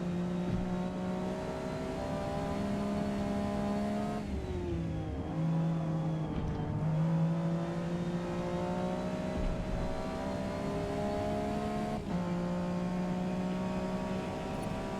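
A BMW race car engine in Forza Motorsport revving hard and climbing through the gears, its loud whining tone repeatedly dropping at shifts and rising again over fifteen seconds, with no talk.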